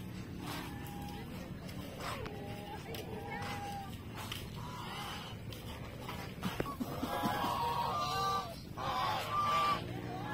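Chickens cluck and call in a rural yard in San Luis, Pampanga, Philippines, with repeated short squawks over steady background noise and people talking nearby.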